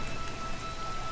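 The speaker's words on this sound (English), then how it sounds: "Because it's cold and rainy here." Steady rain falls in the Tomb Raider video game, a constant dense hiss of drops on surfaces with no talking, moderately quiet throughout.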